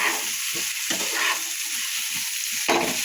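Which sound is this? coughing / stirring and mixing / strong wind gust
stirring and mixing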